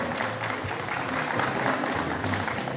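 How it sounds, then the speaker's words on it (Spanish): Steady applause from a crowd at a beauty queen election event, dense and continuous clapping throughout, with faint voices mixed underneath. "Un fuerte aplauso para ella"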